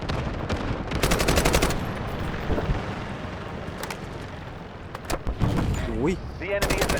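Automatic rifle fire in the Delta Force video game, with an AK-12 among the weapons, comes in rapid bursts and sharp single shots over a rumbling battlefield, while a player's voice breaks in now and then.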